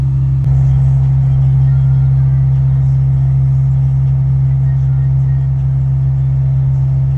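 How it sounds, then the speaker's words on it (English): A bulldozer working a pond bank during a repair and reslope, its engine a loud, constant low rumble close by, steady throughout with no talking. "See, we tear it out and we hit it with the bulldozer."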